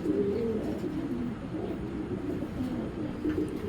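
Racing pigeons coo softly nearby, low murmuring calls repeating over a continuous loft background.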